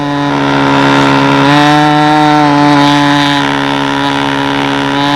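A model airplane engine runs steadily at high revs, a loud continuous buzzing whine that shifts pitch slightly partway through as its needle is adjusted.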